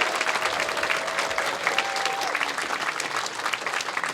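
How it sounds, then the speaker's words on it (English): Audience applause fills a volunteer-appreciation moment at a furry convention opening ceremony, a dense, steady round of clapping from a large crowd that carries on without break, with a faint voice briefly audible underneath. "Can we just get a round of applause for these wonderful people here that have volunteered their time?"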